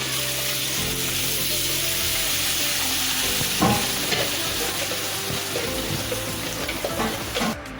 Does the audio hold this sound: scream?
no